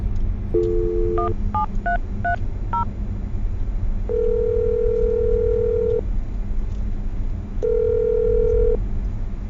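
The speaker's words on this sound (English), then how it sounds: "let's dial Manny's phone number right now" A telephone dialing a number, a quick run of keypad tones followed by two longer, steady ringback tones over a low background hum.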